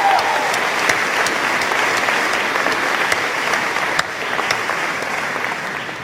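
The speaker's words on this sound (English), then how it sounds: "Round of applause for them too." Steady audience applause at a graduation ceremony, a dense wash of many hands clapping at an even level for about six seconds, with a brief swell near the middle and no talk over it.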